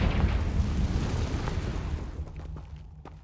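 A Confringo blast from Hogwarts Legacy erupts as one loud, booming burst that rumbles and fades over a few seconds, with faint crackling debris at the end.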